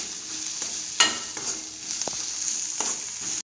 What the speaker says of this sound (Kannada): ಹಸಿಮೆಣಸಿನ್ಕಾಯಿ ಹಾಕ್ಕೋತಾ ಇದ್ದೀನಿ. ಸ್ವಲ್ಪ ಫ್ರೈ ಮಾಡಬೇಕು.